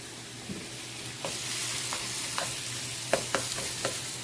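Sliced Philly steak and cheesesteak ingredients sizzle in a hot pan under a steady hiss, with occasional sharp scrapes and clicks as a utensil stirs them, and no talking.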